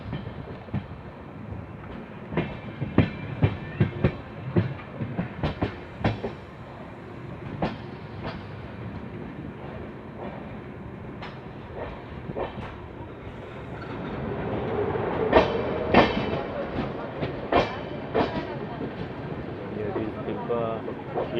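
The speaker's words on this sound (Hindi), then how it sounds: "सामने से कोई तो गाड़ी आ रही है" An Indian express train travelling toward New Delhi as another train approaches from the opposite direction, with rhythmic clickety-clack of wheels over rail joints and a building rumble as the other train passes close by, under intermittent talk.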